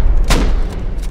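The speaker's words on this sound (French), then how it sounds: "Lance roquette, attention." A rocket launcher round explodes during a raid defense in Rust: one sharp, loud boom with a short rumbling tail, then a fainter second blast about a second later.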